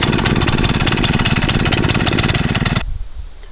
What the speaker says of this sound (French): Donc on va démarrer notre moteur.